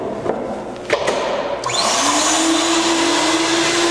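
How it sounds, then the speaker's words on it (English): A Ruwac WS2320-HD three-motor 240-volt industrial vacuum with a 2-inch hose, picking up fine graphite powder, spins up with a rising whine after a few knocks and then holds a loud, steady roar. "We're using a 2-inch hose with the 3-motor 240-volt vacuum"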